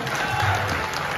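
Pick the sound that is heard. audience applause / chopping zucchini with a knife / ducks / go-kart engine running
audience applause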